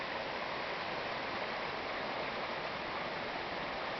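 The Chemainus River creek rushes steadily over rocks, producing a continuous, even wash of flowing water with no breaks or other sounds.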